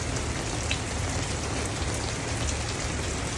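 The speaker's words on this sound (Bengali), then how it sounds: "এত বৃষ্টি হচ্ছে, আমরা এরকম দাঁড়িয়ে আছি" Heavy rain pours steadily in Singapore, a dense, unbroken roar of drops on surfaces, close and even throughout, with no talk over it.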